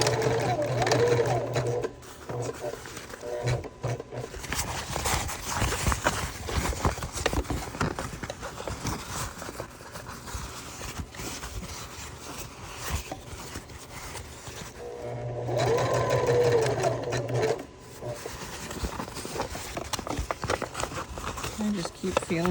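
A sewing machine top stitches along the opened side seam of a fabric bag, running in two bursts, near the start and again in the middle, with a person talking quietly between them.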